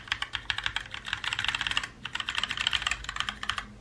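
Rapid, crisp keystrokes on a Glorious GMMK Compact 60% mechanical keyboard, close and loud, with dense clacking bursts and a brief pause in the middle, no voices.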